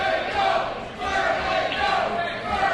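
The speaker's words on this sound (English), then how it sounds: "what was a split crowd before certainly sounds like a pro Vertigo crowd now" Pro wrestling crowd at a SMASH event roaring for Vaughn Vertigo in his match against Brent Banks, a sustained, loud wash of cheering and chanting in an arena that swells and dips.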